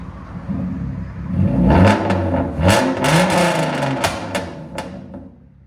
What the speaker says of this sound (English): Fully straight pipe. Genesis Coupe. Give it gas.